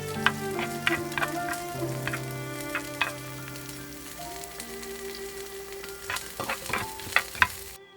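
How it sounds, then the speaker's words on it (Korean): Ginkgo nuts roast and rattle in a pan, with a steady sizzle and frequent sharp clicks and taps as they are stirred and shaken, close up with no talking. "은행을 팬에 볶아주세요."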